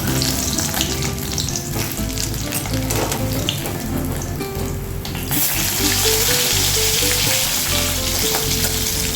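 Rohu fish fries in oil in a pan, a loud, steady crackling sizzle close by that swells brighter partway through, heard alone without talk.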